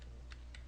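Two quiet keystrokes on a computer keyboard while a web address is typed into a sensor's settings field, spaced apart over a steady low background hum.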